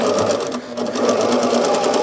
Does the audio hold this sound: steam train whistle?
no